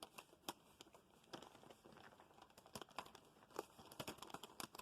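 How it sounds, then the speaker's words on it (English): Quiet, close crinkling of plastic with a series of sharp snips and crackles as vintage scissors cut through a thin plastic poly mailer. "Mother's vintage scissors to slice this open."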